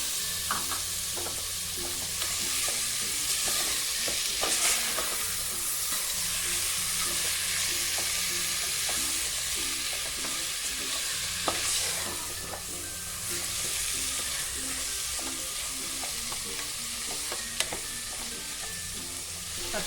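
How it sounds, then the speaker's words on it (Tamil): Tomatoes sautéing in a pan with spices for chicken biryani, a continuous sizzle broken by repeated scraping stirs and clinks, close and fairly loud. "தக்காளி நல்லா வதங்கிடுச்சு"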